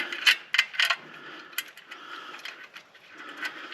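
A ratchet spins clutch bolts into a 1998 Dodge Neon, quick bursts of close metallic clicking in short runs with brief pauses between, no talking.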